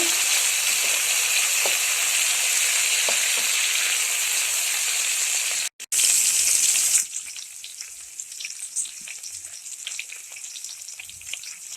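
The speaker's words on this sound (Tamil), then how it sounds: "கருவேப்பிலை சேர்த்துக்கோங்க. சுண்டக்காய் வத்தல் சேர்த்துக்கலாம். நல்லா வதக்கிக்கோங்க." Curry leaves, dried red chillies and dried turkey berries sautéing in hot oil, a loud continuous sizzle for about seven seconds, a brief break, then a softer, quieter crackle with scattered pops as the pan settles.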